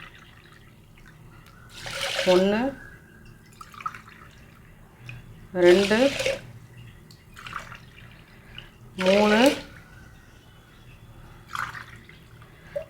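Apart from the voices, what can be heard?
pouring four tumblers of water into rice for pongal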